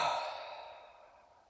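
A long, steady exhale of cannon breath during a kundalini mantra meditation class, a soft airy whoosh that starts strong and slowly tapers away over about a second and a half, heard alone.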